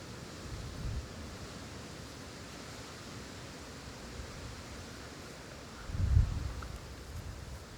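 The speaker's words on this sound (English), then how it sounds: "it's so windy at the moment" Steady outdoor wind noise, a low rushing roar with a stronger gust buffeting near the end; no one speaks.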